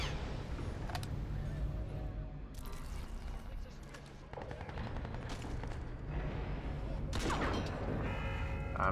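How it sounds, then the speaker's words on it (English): Gunfire in the shooter game Crysis 3, bursts of shots and sharp cracks mixed with game effects and a low rumbling backdrop, steady and moderately loud throughout, with someone talking over it. "I'm not gonna be able to shoot through that, am I?"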